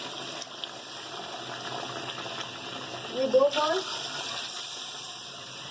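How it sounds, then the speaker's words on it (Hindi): Water poured into a pot of meat for haleem in a home kitchen, a brief gushing splash in the middle of a low background hiss as someone speaks. "अब हम इसमें गोश्त चलने के लिए पानी डालेंगे।"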